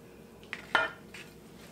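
Inch-sized cubes of smoked ham drop into glass canning jars, giving two or three quiet, sharp clinks and taps, with a soft rustle between them and no talking.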